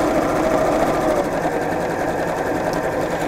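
A sewing machine runs steadily, top stitching a bag strap with a lengthened stitch, its motor whirring as a continuous, fairly loud hum from start to finish with no talk over it.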